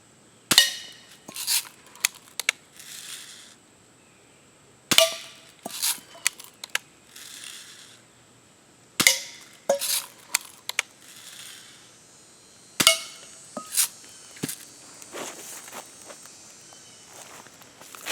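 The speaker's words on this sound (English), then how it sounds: "you can have a lot of fun target shooting" Rifle shots ring out during outdoor target shooting while sighting in a rifle, about six sharp cracks spaced several seconds apart, each followed by a brief echoing tail and small clicks of handling between shots.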